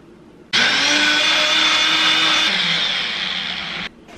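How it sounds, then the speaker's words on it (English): A countertop blender whirs loudly and steadily for about three seconds, pureeing a marinade of olives, onions, cilantro, lime, garlic and Mexican oregano, then cuts off abruptly. "Just gonna blend this up."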